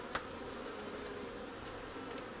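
Honeybees buzz around an open hive in April, a dense, continuous drone filling the scene at close range, with a brief sharp tick near the start and no voices.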